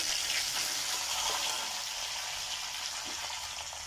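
Two bay leaves fry in hot oil among whole spices, cinnamon and cardamom, giving a loud, dense, even hiss that holds steady and tapers only slightly over a few seconds, close by and with no voices.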